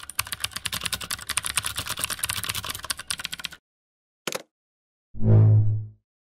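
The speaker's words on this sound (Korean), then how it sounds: "나 키보드 치는 소리 개빠른 거 들리지?" Rapid clattering keystrokes on a computer keyboard, a fast dense burst for a few seconds that then stops, followed by a brief click and a short low tonal thump.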